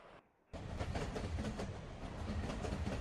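A Union Pacific model train runs along its rails after a brief quiet gap, a steady rumbling roll with repeated clicking from the track, close and continuous.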